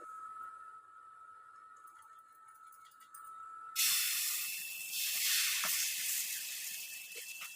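Dosa batter hitting a hot pan with cold-pressed groundnut oil and a spoon of ghee, bursting into a loud, steady sizzling hiss partway through that carries on strongly after a quieter start.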